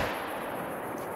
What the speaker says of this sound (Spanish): Otro disparo.